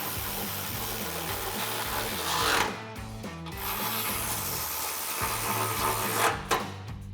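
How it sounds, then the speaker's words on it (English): Ratchet with a 10mm socket tightening exhaust hanger bolts on a Ford F-150 EcoBoost during an MBRP dual exhaust install, a close, steady run of rapid clicking and scraping with brief louder spurts and no talking. "grab our ratchet with our 10mm socket and tighten those down"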